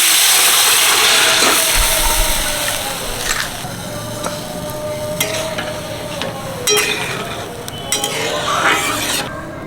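Dried red chillies and mustard seeds sizzle hard in a little hot oil, a loud steady crackling hiss with sharp spitting pops and occasional stirring scrapes, no voices.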